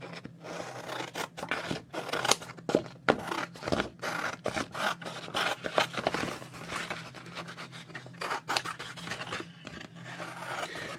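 Scissors trim paper beside a gel printing plate, with a dense run of close snipping and scraping blade sounds that continue steadily throughout, over a faint low hum.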